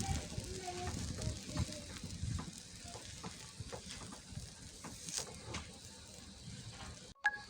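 Grated bottle gourd halwa roasting in ghee in a pan, a soft steady sizzle with faint stirring scrapes and a sharp knock near the end, a voice talking over it.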